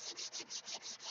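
Hand sanding on wood for an airplane build, seven steady back-and-forth rasping strokes in an even rhythm, close and fairly quiet, with no voices.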